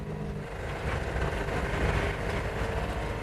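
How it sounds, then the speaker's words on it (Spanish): Compressed-air car engine developed by Guy Negre, a steady mechanical running noise with a broad, continuous hiss and low rumble, moderately loud and unbroken throughout, with no voices. "Es un auto que funciona con aire comprimido."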